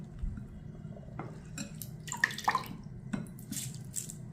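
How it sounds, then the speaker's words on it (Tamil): Water drips and trickles from soaked Mappillai Samba rice in a sieve, with faint irregular drips and small splashes close by and no talk. "இப்போ இந்த அரிசியை வந்து நம்ம ஜல்லடையில் போட்டுக்குருவோம்."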